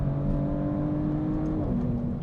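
A Maserati GranTurismo engine holds a high, steady rev around 7,200 RPM at full throttle, its pitch dipping slightly near the end, heard from inside the car without speech.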